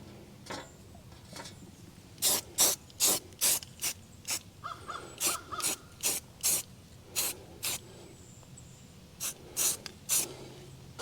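A ratchet works on the aluminum rear window louver of a 1977 Trans Am. Loud, close bursts of rapid clicking repeat in a steady rhythm, with brief pauses between the bursts.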